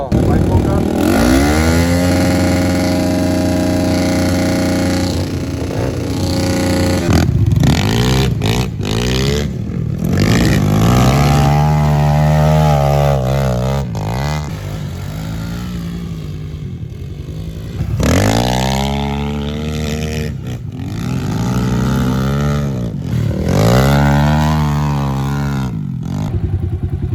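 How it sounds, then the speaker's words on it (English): A pit bike engine warms up and revs repeatedly in rising and falling bursts, loud and close, with talk over parts of it. "Just getting the bike warmed up."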